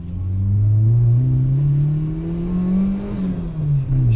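A 1998 Peugeot 106 Rallye S2 engine drones loud and close while driving, with the pitch rising and falling smoothly as the car accelerates and eases off, and no talk over it.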